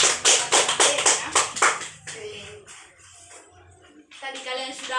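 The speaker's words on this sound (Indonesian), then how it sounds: "kita berikan tepuk tangan untuk kelompok 2 yang sudah mempresentasikan materinya" A classroom of students claps for a student group, a run of sharp, quick claps for about two seconds that thins into scattered taps, followed by children's voices.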